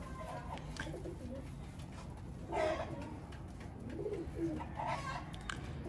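Soft cooing from domestic pigeons in a home breeding loft in a couple of short bursts over a faint background hum, fairly quiet and nearby.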